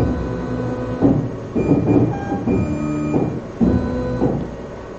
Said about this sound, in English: now we're ready to press the autofocus button